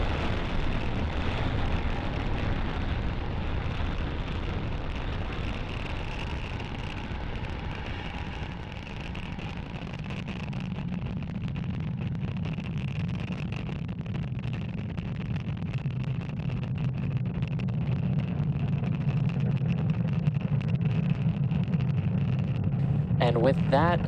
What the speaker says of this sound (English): And with that successful liftoff of our Starlink satellites on our Falcon 9 vehicle